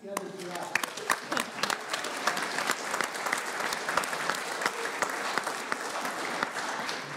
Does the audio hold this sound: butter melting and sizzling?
no